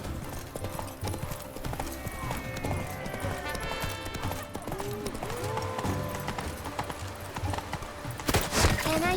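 Horse hooves clip-clop steadily in The Witcher 3: Wild Hunt's Blood and Wine expansion, a brisk rhythmic trot with game sounds around it and a loud burst near the end, while a person talks faintly over the gameplay.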